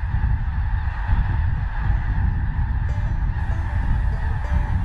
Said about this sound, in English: When the snow geese take flight, notice how they seem to move as one.